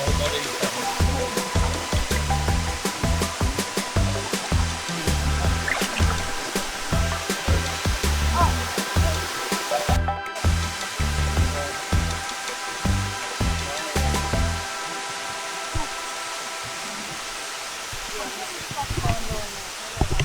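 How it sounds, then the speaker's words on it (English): Erawan waterfall's seventh tier in Thailand gives a steady, dense rush of falling water close by, continuous throughout, with constant background hiss and faint voices mixed in. "We are at the 7th waterfall."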